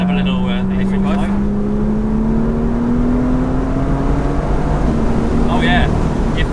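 A BMW M2 engine pulls hard, its note climbing steadily before dropping through a gear change and building again. It sounds loud and close from inside the car, with brief voices at the start and end.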